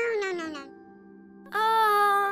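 A domestic cat gives two clear meows, a short descending one followed by a pause and then a louder, drawn-out cry, close and alone with no talk.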